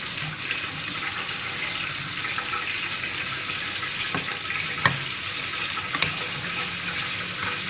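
Potatoes frying in hot oil for a biryani, a steady broad hiss and sizzle with a few sharp crackles and pops, continuous and close with no talking.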